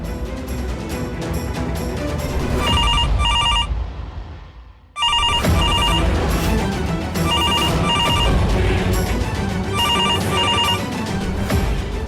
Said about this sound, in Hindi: कहीं ये पायल का फोन तो नहीं?